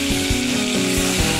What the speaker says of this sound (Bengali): দেখো মাছগুলো সব ভাজা হয়ে গেছে।